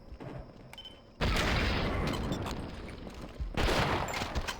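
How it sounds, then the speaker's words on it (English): Explosions and gunfire burst in Half-Life: Signal Lost, a loud sustained blast erupting suddenly, rolling for a couple of seconds, then a second heavy burst near the end, with no talking. "And let's use the power of explosives."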